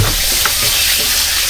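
Food fries in a pan at an outdoor outing cookout, a loud, steady, close hiss and crackle that holds evenly throughout with no voices.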